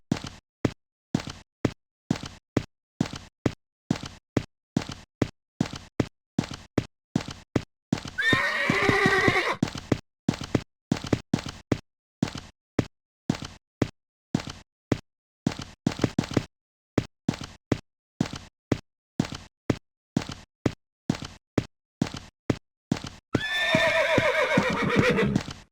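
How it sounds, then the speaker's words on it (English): Horse hooves clip-clop in a steady, rapid rhythm across a sunny show-jumping course in the Equestriad 2001 video game, broken by two loud, drawn-out neighs, one midway and one near the end. "This horse is really jumping well for her."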